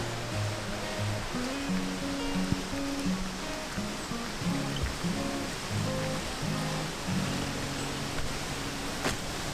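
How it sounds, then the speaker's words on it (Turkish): Waterfall at Yedigöller, a steady wash of rushing water heard at a moderate distance with a faint, fluttering tonal sound layered on top throughout. "şelalenin sesi duyuldu."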